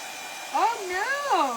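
Hair dryer blowing steadily throughout, its whirring pitch rising and falling as the airflow shifts, close and fairly loud with no talk over it.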